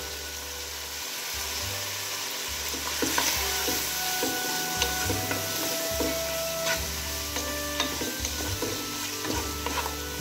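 Chicken for chow mein fries in a pan with a constant loud sizzle, while a utensil stirs and scrapes the pieces in irregular strokes close by.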